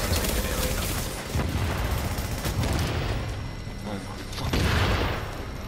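Grenades go off in Tom Clancy's The Division, several heavy booms and bursts of gunfire-like blasts mixed with loud player chatter over them.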